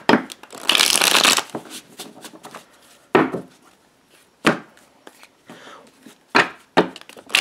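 Tarot cards being shuffled, a dense riffling burst near the start followed by several separate sharp card slaps and flicks spaced a second or so apart, close and clear with no voices.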